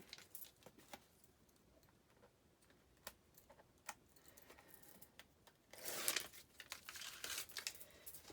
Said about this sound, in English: I'm just going to remove the backing of my score tape